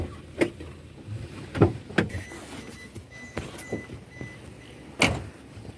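Sharp thumps and clicks come from a parked car as the driver gets out and handles the door, a few distinct knocks close by with short quiet gaps between them.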